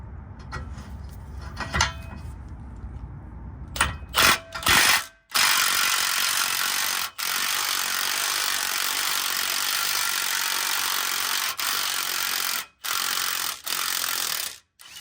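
Ratchet working loose a stubborn 18mm bolt on a Tahoe's suspension: a steady, close, rasping mechanical grind runs for most of the stretch, broken by a few short pauses and preceded by scattered clicks and knocks.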